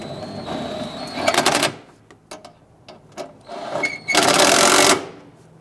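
A ratchet tightens the fuel tank strap bolts under a 1999-2004 Jeep Grand Cherokee, with two loud bursts of rapid clicking separated by quieter taps and short ratchet strokes.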